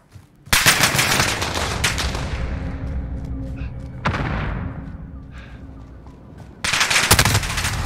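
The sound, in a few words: gunfight gunfire in Call of Duty video game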